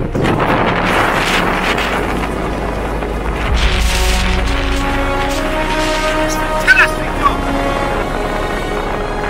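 Strong, steady wind from Storm Ciara roars and buffets the microphone with a deep rumble throughout, gusting slightly stronger midway.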